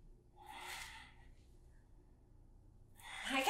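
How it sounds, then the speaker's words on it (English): During a gentle morning mobility exercise, a person breathes with forceful exhales, two breathy rushes of air heard close and fairly soft with quiet pauses between. "I kind of have a forceful exhale going on here."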